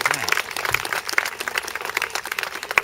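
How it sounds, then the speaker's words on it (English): An audience claps for William Faulkner at a speech during an annual lantern float in Lincoln, Nebraska, a brief dense patter of hands with faint voices mixed in. "we can clap for William Faulkner"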